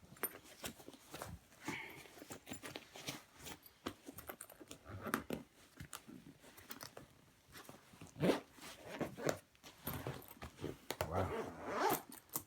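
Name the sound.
zipping up a packing cube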